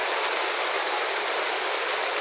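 Strong floodwater rushing through a neighbourhood during monsoon flooding in the Philippines, a loud, dense, unbroken roar of moving water close by, steady for the whole moment.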